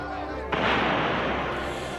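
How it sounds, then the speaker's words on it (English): Two cannons of a militia armory defense fire grape shot, heard as a sudden loud boom that rolls into a long, broad rumbling roar and holds steady to the end. "Militia General William Shepard, who ordered grape shot be fired from 2 cannons at the insurgents"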